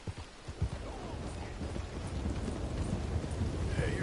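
Horse hooves clip-clop in a steady walking rhythm in the video game Red Dead Redemption 2, beneath a constant hissing wash like rain or wind.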